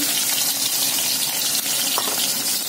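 Raw fish dropped into a hot wok (kadai) of oil, giving a steady, loud hissing sizzle that fills the whole moment with no talk over it.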